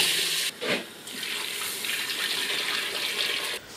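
Water pours steadily from a tap into a cooking pot for oxtail soup, a continuous hissing splash that briefly shifts in tone before stopping near the end.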